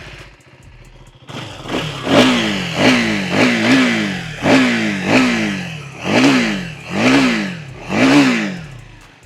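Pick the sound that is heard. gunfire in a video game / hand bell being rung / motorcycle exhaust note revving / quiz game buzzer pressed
motorcycle exhaust note revving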